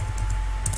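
Quick keystrokes on a computer keyboard while filling in a signup form, a few soft taps over a steady low hum within a brief moment.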